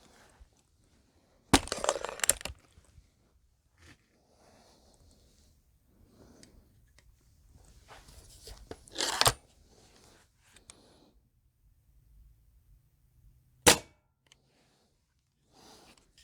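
Crosman Crusher air rifle dieseling, a few sharp loud cracks spaced several seconds apart amid quiet handling noises.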